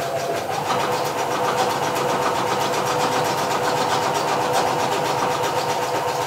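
A sewing machine runs steadily over the raw edge of knit fabric, a continuous close mechanical whir with a rapid, even stitching pulse and no pauses.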